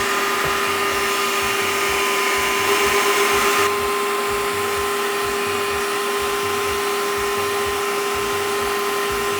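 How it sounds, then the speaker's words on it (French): A sausage stuffing machine forces salt cod stuffing into a casing for Antillean boudin, giving a steady motor whine with a strong constant hum and a rapid low pulsing rattle that runs unbroken throughout, close and fairly loud, with no talking. "Et je vais pouvoir commencer à mettre ma farce dans ma machine."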